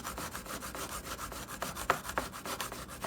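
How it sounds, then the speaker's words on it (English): A pear being peeled for beef bulgogi, giving a steady close scraping rasp that repeats in a quick even rhythm, with no talking. "we have to peel our pear."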